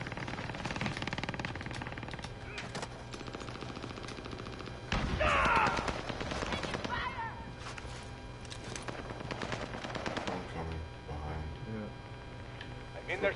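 Heavy gunfire in a video game battle: dense rattling bursts and scattered shots run throughout, with one loud close burst in the middle, mixed with game sounds and voices talking over the fighting.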